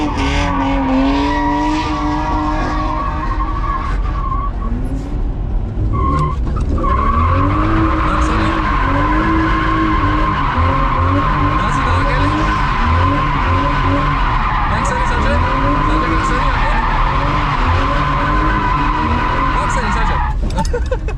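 A drift car skids sideways with long, loud tire squeals and a revving engine, the screech swelling and easing in waves, with a voice talking over it.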